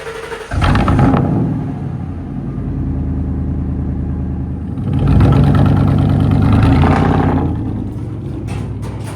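A long-unused truck engine cranks and fires after sitting since 2024, catching into a loud, rough idle close by, then rising in a sustained rev before settling again.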